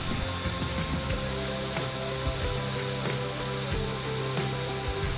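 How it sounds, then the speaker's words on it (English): A table saw makes repeated passes through plywood to cut tenons for a frame's corner joints. The whine is steady and fairly loud, with rhythmic dips in pitch as the blade bites the wood, and no talk over it. "I made several passes on table saw to make tenons"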